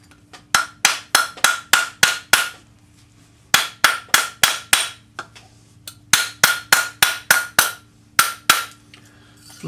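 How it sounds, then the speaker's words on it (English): A rawhide hammer strikes a metal bangle on a bracelet mandrel in three quick runs of about six to eight sharp, ringing blows, separated by short pauses, close and loud with no talk. "So round it up on your bracelet mandrel with a rawhide hammer."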